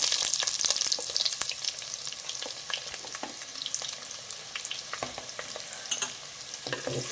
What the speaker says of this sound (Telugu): ఈ ఉల్లిపాయలు కూడా బాగా కొంచెం వేగాలండి, ఎర్రగానే వేగాలి.